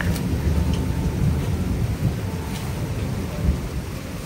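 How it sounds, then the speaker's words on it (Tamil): Heavy rain pours in a steady roar with deep rumbling thunder rolling beneath it throughout a lightning storm, loud and continuous with no voices. "நல்லா இடி மின்னலோட அடி பின்னி எடுக்குது மழை"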